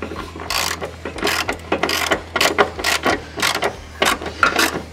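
Ratchet wrench loosening 12 mm bolts holding the side steps on a Lexus GX470, a close, loud series of quick clicking bursts in an uneven rhythm with short pauses between strokes.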